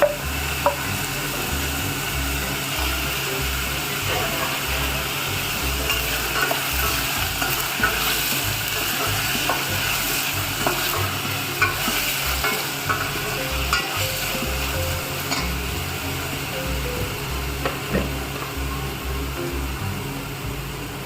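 Chicken and capsicum stir-frying in a pan, a dense continuous sizzle with repeated stirring scrapes of the spatula, close and steady throughout with no voices.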